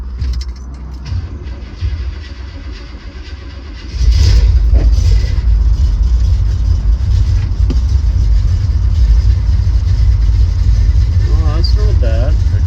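A 1969 Chevrolet Chevelle SS engine idles roughly, a loud, close, low rumble that begins abruptly a few seconds in and holds steady, with a little faint talk over it.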